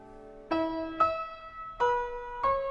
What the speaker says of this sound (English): she has a Steinway grand piano in her dining room, in her living room. It sounds like this.